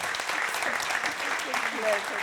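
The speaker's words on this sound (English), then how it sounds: "a big applause to Anna" An audience at a university architecture panel applauds organiser Anna, a steady wash of clapping at moderate level with faint voices mixed in beneath it.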